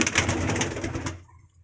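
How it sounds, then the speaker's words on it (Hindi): Pigeons coo in a soft, rolling, repeated call close by, ending abruptly into quiet. "ये कबूतर भी देखें, एंजॉय करें।"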